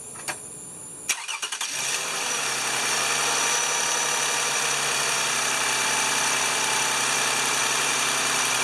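A 2011 Toyota Sienna engine just after an alternator replacement cranks briefly, catches and settles into a steady, even idle that runs on loud and close with no talk.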